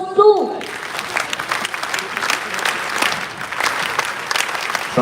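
An audience at a youth summit of a national youth festival breaks into sustained applause that carries on for about five seconds after a voice briefly speaks at the start.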